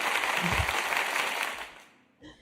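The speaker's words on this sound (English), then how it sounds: "This applause is for the mods and everyone who donated." Sustained applause from an audience during a live Saturday night talk show, dense and steady before fading out, with a short voice at the end.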